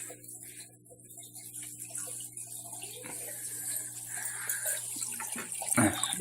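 Return water from an aquarium pump pours into a filter box, a continuous gushing and trickling with a hissy, splashy character that grows gradually louder and busier over a low steady hum.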